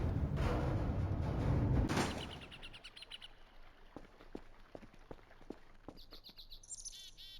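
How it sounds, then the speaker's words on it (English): Bird chirps in the Voices Of The Void video game: after a loud rumbling noise fades, a series of short chirps and tweets sound at moderate distance over quiet ambience, and a high trilling call closes it out. "Or just a bird."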